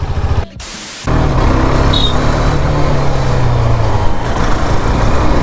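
A 2023 KTM RC 390 BS6 motorcycle engine runs while the bike turns. The ride gives a loud, continuous mix of engine drone and wind rush, with a brief dip near the start before the roar resumes steadily.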